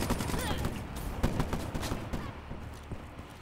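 Rapid gunfire from a KRM shotgun in a video game, a dense string of repeated blasts over a busy game mix, with no talk in this stretch.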